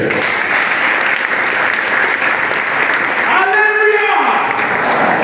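A church congregation applauds in a loud, sustained wash of clapping, while a voice rises over the crowd near the end.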